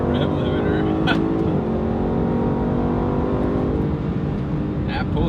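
A 605-horsepower car engine held at high revs, bouncing off the rev limiter, a loud sustained droning roar heard from inside the cabin, with brief stutters as the limiter cuts in.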